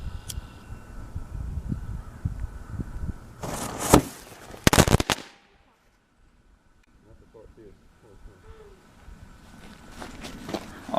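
A loud, sharp bang of a homemade flash powder firecracker, partly buried in ashes, explodes after some rustling and shuffling nearby, then a brief hush before faint movement and a distant voice return.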